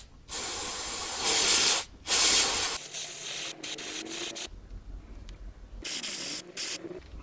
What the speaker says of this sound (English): I'll start spraying to remove the dirt.